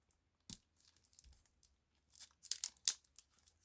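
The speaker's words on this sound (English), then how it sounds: "let's go ahead and carefully open this up so that we can get to see the actual cards" Cardboard and plastic packaging of a tarot card box being torn and crinkled open, in sharp irregular bursts of ripping with short quiet pauses between, close and clear with no talking.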